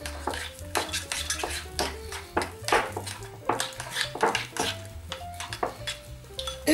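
Rye flour and lukewarm water being mixed in a bowl for a liquid sourdough starter, with repeated clinks and scrapes of a utensil against the bowl in an irregular rhythm over a faint tonal background.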